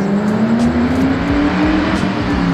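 A Ford Mustang engine drives past close by, a loud, steady car engine roar with a slowly rising pitch and no talking.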